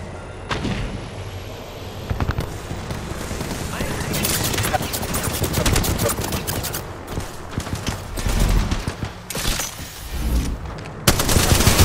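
Video-game gunfire rattles in dense, rapid bursts of shots, loud and close, with heavier blasts among them and no clear pauses between volleys.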